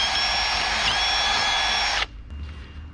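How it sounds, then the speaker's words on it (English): A Milwaukee Fuel brushless power drill bores into metal with a loud, steady high-pitched whine for about two seconds, then stops abruptly, leaving quieter background noise. "these Milwaukee fuel drills are no joke"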